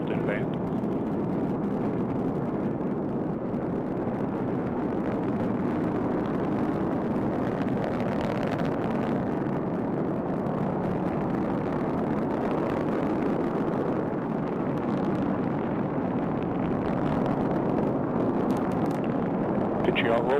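An Atlas V rocket's engines roar steadily through the launch carrying NASA's TDRS-L satellite, a dense, unbroken rumble that stays level and continuous for twenty seconds, with voices from launch commentary present under it.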